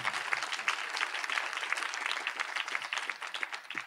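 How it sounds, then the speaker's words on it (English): A banquet audience gives a warm, sustained round of applause for the workers who served lunch at an anniversary celebration, dense clapping heard from a distance at fairly low level. "Let's give them a great big round of applause."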